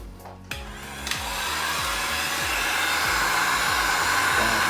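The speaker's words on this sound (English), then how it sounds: "Now we're going to take our heat gun." A heat gun blows hot air over epoxy resin on a white marble-effect worktop sample, a steady loud broadband whoosh that starts after a couple of clicks and holds evenly.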